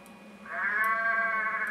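Sheep bleating ambience from the iPhone game Sheep Dog: one long, sustained, clearly pitched baa that swells in about halfway through and holds steady at moderate loudness, alone with no talk.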